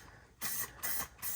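Primer hisses from a spray can onto a car wheel in three short, even bursts separated by brief pauses, soft and close with no talking.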